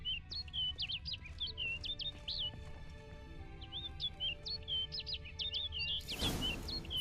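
Repeated bright chirps and short warbling calls from a bird in The Witcher 3 video game, several quick phrases in two bursts over a low ambient bed, ending in a brief rushing flutter.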